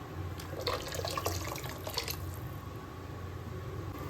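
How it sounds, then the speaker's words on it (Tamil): Thick coconut milk pouring steadily into a pot, a continuous soft splashing flow with a low background hum, no voices. "திக்கான தேங்காய் பால் வந்து 1 கிளாஸ் ஊற்றிக்கிறேன்"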